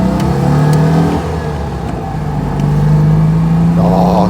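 Classic car Ellie accelerates with a buzzing, rising engine note heard from inside, its rattling windows adding to the steady, loud drone.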